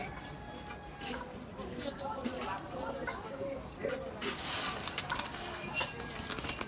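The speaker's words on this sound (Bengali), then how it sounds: "দুটোটাই হাই ফ্লার কবুতর" High-flyer pigeons with stone eyes make soft coos and a burst of wing flapping close by, mixed with rustling and other handling noise in a loft.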